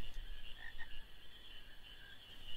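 A frog croaks in the video game Final Fantasy IX, a couple of short croaks near the start over a steady, high-pitched ambient hum, fairly quiet with no voices.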